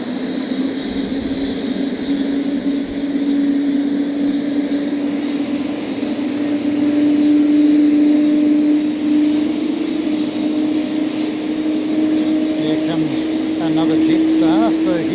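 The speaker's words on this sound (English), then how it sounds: "that noise that you can hear is the startup of those GEs on that beautiful Dreamliner" Twin GE engines on a Boeing 787-9 Dreamliner spooling up at Fukuoka airport, a steady loud droning whine with rising tonal hum, with talk over it.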